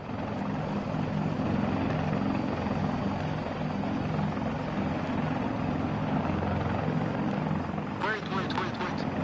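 Helicopter rotor thumping steadily and loudly throughout a modded Arma Reforger match, with a voice talking over it and a short burst of higher sounds near the end.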